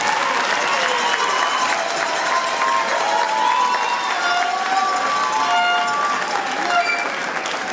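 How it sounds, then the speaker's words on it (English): A graduating class at a 2019 commencement ceremony is applauded by a large audience, a dense, loud, continuous wash of clapping with some cheering and crowd noise mixed in. "Let's give them a round of applause."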